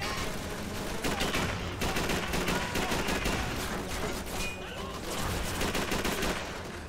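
Dense gunfire in a Call of Duty 3 battle aimed at the player, with rapid overlapping shots and bursts that run continuously as a loud, busy clatter.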